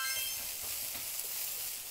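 Meat sizzling as it fries in a pan, a brief, fairly quiet, steady crackling hiss with no talk over it.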